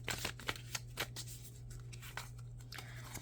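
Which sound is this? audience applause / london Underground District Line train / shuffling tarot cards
shuffling tarot cards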